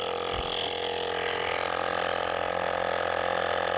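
A cordless tyre pump inflates a flat wheelbarrow tyre, a loud steady buzzing mechanical drone with rapid piston rattle, continuous and close, following a short thump at the start.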